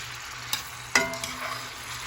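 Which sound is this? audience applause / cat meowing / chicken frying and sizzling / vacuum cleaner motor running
chicken frying and sizzling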